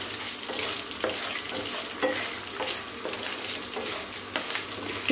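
Tamarind and other thuvaiyal ingredients sauté in a pan, giving a steady close sizzle broken by regular spatula scrapes and taps and a louder knock at the end, with no voices.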